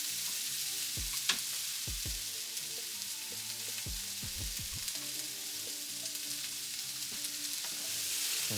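Carrots frying in a pan of vegetables: a steady hiss of sizzling with scattered clinks and scrapes from stirring, fairly quiet, no voices.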